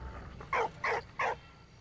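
Dog from Valiant Hearts: The Great War giving three short, evenly spaced bark-like bursts at moderate loudness over a quiet game background.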